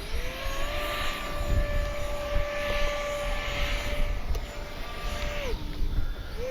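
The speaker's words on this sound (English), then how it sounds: "that's a great flying EDF" A Kavan Skyfox L-39 RC electric ducted fan jet flies overhead, its steady high whine with a shifting pitch over broad rushing noise, loud and continuous throughout.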